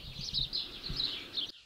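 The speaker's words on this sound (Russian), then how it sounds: "Хорошо, хоть местные птицы." Birds sing early in the morning in Albania, a continuous high warbling chirp that carries steadily over soft low background noise before cutting off abruptly.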